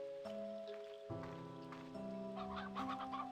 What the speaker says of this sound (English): Oh, some more chickens.